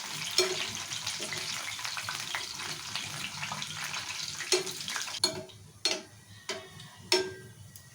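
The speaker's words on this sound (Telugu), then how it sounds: "సో అటు ఇటు ఇట్లా మంచిగా ఫ్రై చేసుకోవాలి తిప్పుకుంటూ" Soya chunks fry in hot oil while being turned, a dense close sizzle that thins toward the end, where sharp clicks and scrapes of the utensil against the pan stand out; no voices.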